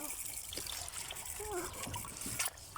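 Water trickles and splashes faintly while pechay leaves are rinsed of soil, the splattering running under a person talking nearby.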